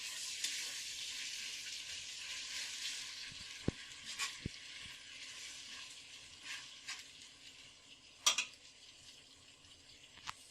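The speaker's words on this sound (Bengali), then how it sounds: "তো আমার মশলাগুলো মোটামুটি কষানো হচ্ছে" Spices, ginger paste among them, are sautéed in a pan for roast duck. A soft, steady sizzle runs under occasional spoon scrapes and knocks against the pan, quiet and close, with no voices.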